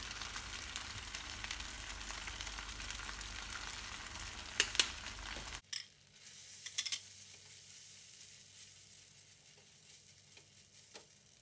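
Crispy fried chicken cooking in a pan with sweet soy and oyster sauce: a soft, low simmering sizzle with a few light stirring clicks that grows quieter partway through.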